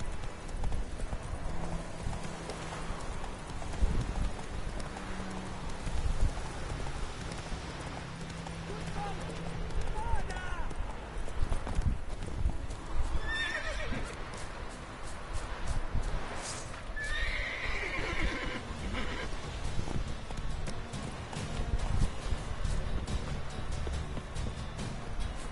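Roach, the horse in The Witcher 3, gallops with steady, rhythmic clip-clop hoofbeats and lets out several neighs and whinnies. A person talks intermittently over the game sounds.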